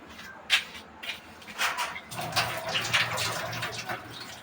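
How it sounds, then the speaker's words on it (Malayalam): A face pack being rinsed off with water: intermittent splashes and wet rubbing of hands on skin, then a steadier run of water from a tap, close and moderately loud. "അപ്പോൾ ഞാൻ ഇതൊന്ന് കഴുകി എടുക്കട്ടെ"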